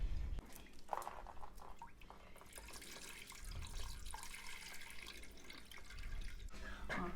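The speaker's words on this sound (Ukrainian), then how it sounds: "Наливаємо знову водичку." Water splashing and pouring steadily into a nano aquarium, a continuous trickling gush with small drips, fairly close and with no talking.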